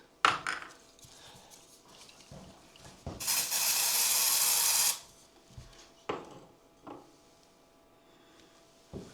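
Spray bottle misting the face of a golf club on a course, one sustained hissing burst of about two seconds between scattered sharp taps and handling knocks.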